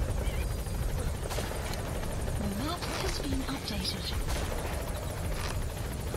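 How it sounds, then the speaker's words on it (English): Support helicopter in the video game Metal Gear Solid 5 thrums steadily with a constant rotor drone throughout, while a radio-style voice speaks over it. "Support helicopter."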